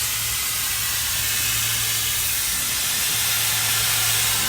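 A CAT Flex spray system sprays paint in a steady, loud, continuous hiss with a low hum underneath, no voices present.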